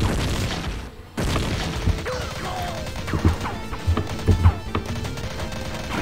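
Explosion in the Miniclip video game Commando 3, heard as a burst of loud game sound effects with several heavy booming thuds and crashes in quick succession over a steady background soundtrack.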